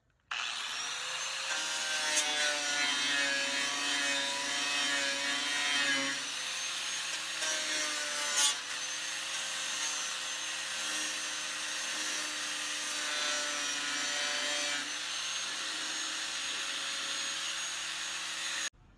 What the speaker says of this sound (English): I'll keep grinding.